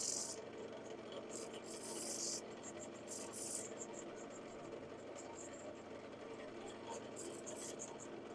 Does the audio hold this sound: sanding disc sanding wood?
yes